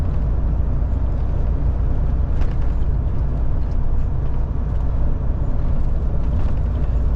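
A vehicle drives onto the Donetsk highway into the city of Dnipro, with a loud continuous low road rumble and engine drone heard from inside the cab, steady and unbroken.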